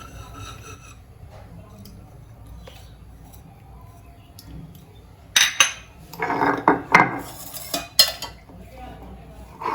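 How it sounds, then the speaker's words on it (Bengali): Radhuni seeds and ginger ground together on a stone grinding slab, heard as a burst of rough, rhythmic rubbing and scraping strokes in the second half after a quiet stretch. "একসাথে শিলে বেটে নিচ্ছি"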